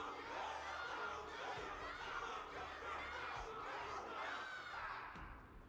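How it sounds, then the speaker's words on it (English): A dense crowd roars and cheers without pause through a battle-arena scene in the Honkai: Star Rail video game, a loud wash of many voices with shouts rising out of it. "Can't you hear? Everyone's cheering for you, Luka."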